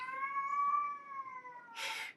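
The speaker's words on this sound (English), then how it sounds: "Sorry, that's my cat." A pet cat gives one long, drawn-out, close and clear meow, followed by a brief breathy hiss or rustle.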